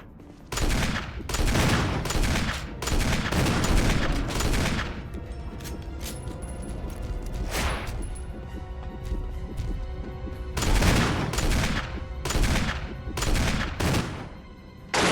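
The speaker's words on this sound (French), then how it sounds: "Ok, fusil à pompe." Shotgun blasts in the Resident Evil remake video game fire heavily and repeatedly, each loud boom ringing out into dense booming noise, layered with other game sounds and with almost no talk.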